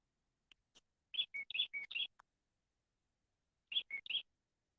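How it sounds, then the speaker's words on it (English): Bird chirps heard through an open window come in quick clusters of short, bright notes, a burst of several, a pause, then a few more, clear against a quiet background. "You hear the birds coming up."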